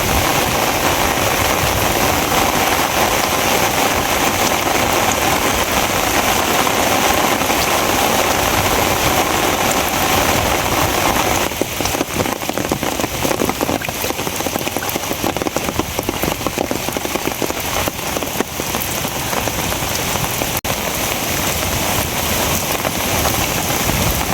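Steady, heavy rain pours continuously, a dense hiss of drops drumming on surfaces that stays loud and unbroken throughout.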